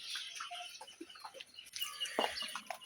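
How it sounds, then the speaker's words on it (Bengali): Hen cackling in a village yard, a series of short clucks and a rising squawk at a moderate distance, with faint outdoor background noise and no talking. "ওই মুরগিটা অনেকক্ষণ পাকাপাকি পারিচ্ছে"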